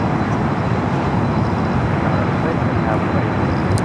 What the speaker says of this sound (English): It's a 10-year-old 737-800